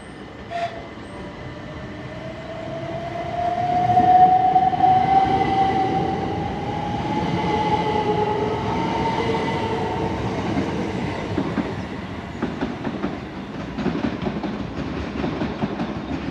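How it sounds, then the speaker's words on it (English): A Southeastern passenger train, the 1237 service from Dover Priory to London Charing Cross, pulls out of Tonbridge station, traction motors whining upward as it gathers speed, then rumbling and clattering over the track, fairly close. "now departing is the 1237 Southeastern service from Dover Priory to London Charing Cross"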